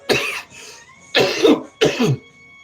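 Three loud, rough coughs from a smoker close by, each a harsh double burst, separated by brief silences.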